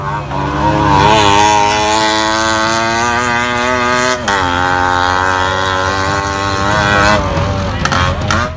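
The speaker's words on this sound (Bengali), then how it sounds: "নিজ দেশীয় সামান্য তিন চাকার ট্যাক্সির রেসিংই এখন দুনিয়া জোড়া খ্যাতি পেতে চলেছে" Three-wheel tuk-tuk taxis race in Sri Lanka, their small engines buzzing loudly and close, with the pitch rising as they accelerate and a brief dip midway.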